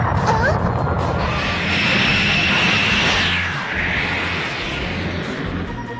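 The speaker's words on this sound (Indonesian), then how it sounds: "Dia berniat untuk melampaui kekuatan Goku dengan cara pergi meninggalkan bumi dan mencari keberadaan Goku yang berada di luar angkasa dengan menggunakan pesawat luar angkasa milik Mr. Brick." Mr. Brick's spaceship lifts off from Earth in Dragon Ball Z anime, a loud sustained roar with a rising, then falling whine, under a narrating voice.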